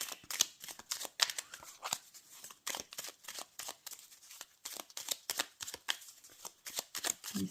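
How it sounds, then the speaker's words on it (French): A brand-new Lenormand oracle card deck is shuffled vigorously, giving a long run of quick, close, crisp riffling bursts with short breaks, no voices. "Alors je brasse beaucoup parce que première fois que je tire avec ce jeu."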